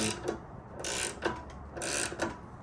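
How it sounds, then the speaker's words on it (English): Ratcheting wrench turning a nut on a Honda CRX during a wheel bearing replacement, giving a few rapid clicking bursts up close between short pauses, with faint workshop background and no talking. "I'm going to be using this ratcheting wrench on this side."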